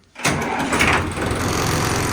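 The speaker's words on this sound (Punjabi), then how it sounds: "ਹੁਣ ਤੁਹਾਨੂੰ ਸਟਾਰਟ ਕਰਕੇ ਵੀ ਦਿਖਾਉਣੇ ਆ ਸਟਾਰਟ ਕਰੂ ਬਈ" A Sonalika tractor engine cranks and catches with a sudden loud roar, then settles into a steady, rough, close idle.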